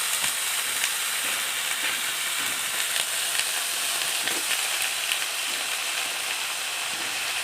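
Chopped bottle gourd hits a pan of hot fried onion and green chili, giving a steady, loud broadband sizzle with faint crackles throughout and no talking.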